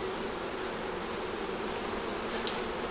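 Honeybees at a nuc box hive entrance, a steady even hum from many insects close by with one brief faint click, no talking.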